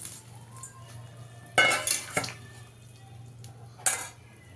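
Pumpkin fritters are dropped into boiling curry in a cooking pot, giving a few short bursts of metal clanking and stirring over a low, steady background hum.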